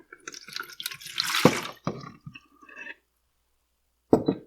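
Water poured from a container into a small mix for making instant barn board, a short splashing pour heard close in an otherwise quiet room, followed by silence and a brief second splash.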